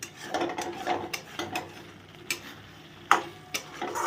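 Masala fries in ghee over a low flame in a pan with a lid, giving a soft sizzle under repeated stirring scrapes and a few sharp clinks, close and fairly quiet.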